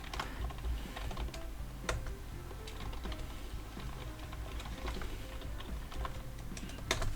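Typing on a computer keyboard while working in a Word document: soft, irregular keystrokes run continuously, broken by a few louder, sharper key presses.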